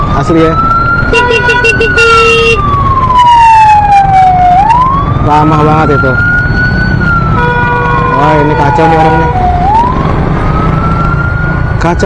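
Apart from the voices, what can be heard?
ambulance siren in traffic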